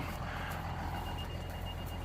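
Truck reversing beeps heard beside a cornfield, faint repeated electronic pips over a steady low engine rumble, with no talking.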